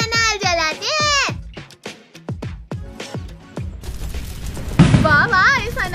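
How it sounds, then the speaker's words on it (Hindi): An anar fountain firework is lit and burns with a steady rushing hiss that swells partway through, under the excited shouts and chatter of children and an adult at a festive home celebration. "चलो भैया ये अनार जलाते हैं।"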